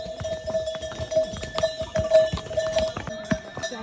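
Horse hooves clopping steadily on the stone trail up to Tungnath in Uttarakhand, a close run of hard, irregular hoof strikes with a faint jingling tone and soft background chatter.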